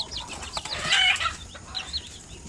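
Shamo Asil chicks newly hatched from an incubator, cheeping in quick high chirps over a soft rustle, close by and with no voices.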